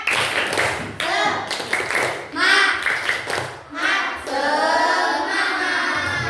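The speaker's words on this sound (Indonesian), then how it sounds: "Kita tepuk semangat." Classroom children do a rhythmic 'tepuk semangat' clapping routine, with patterned hand claps mixed with their chanted voices. The sound is loud and close, in bursts across several seconds.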